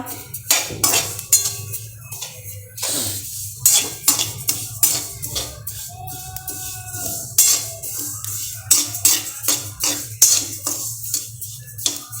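Sesame seeds roasting in a pan, with a spoon scraping and clinking against the metal as they are stirred in quick irregular strokes, and a faint steady background hum underneath.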